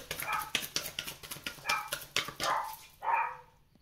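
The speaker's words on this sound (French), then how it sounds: "Excusez-moi pour le chien de la voisine." A neighbor's dog barks in a quick series of sharp, fairly close yaps, running steadily through the whole stretch with a couple of longer barks toward the end.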